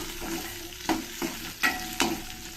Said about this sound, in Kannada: ಒಂದು ಈರುಳ್ಳಿ ಹಾಕ್ತಾಯಿದ್ದೀನಿ ಇದನ್ನೆಲ್ಲ ಸ್ವಲ್ಪ ಚೆನ್ನಾಗಿ ಫ್ರೈ ಮಾಡ್ಕೋಬೇಕು